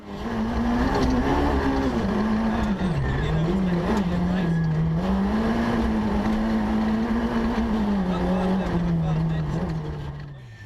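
Rally cars tackle a muddy, slippery series of hairpins on a spectator stage at the Kisumu rally in Kenya, one engine droning loudly and steadily with rising and falling revs, with a voice talking over it.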